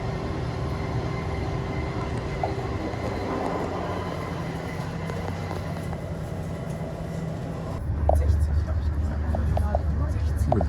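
A long passenger train travels at speed, heard from inside a carriage as a continuous rumbling roar with rattling, growing heavier and lower toward the end; a voice talks faintly over it.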